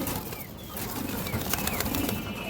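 Pigeons for sale, including a Ban Jamadi pigeon, coo softly while wings flap in brief bursts, with faint chirps and background noise close by.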